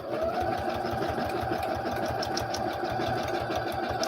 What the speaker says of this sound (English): So sew paper on your sewing machine.